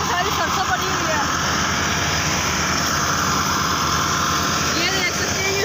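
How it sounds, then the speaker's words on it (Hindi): A tractor and a mustard threshing machine run nearby in a village farmyard, giving a loud, steady mechanical drone throughout, with voices talking over it. "पीछे आवाज़ बहुत है, एक ट्रैक्टर की और एक थ्रेशर की"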